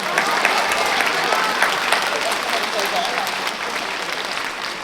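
An audience claps after a Cantonese opera performance, a sustained, dense wash of applause filling the hall from start to finish with light crowd murmur mixed in.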